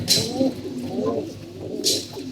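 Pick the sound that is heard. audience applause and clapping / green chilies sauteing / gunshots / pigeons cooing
pigeons cooing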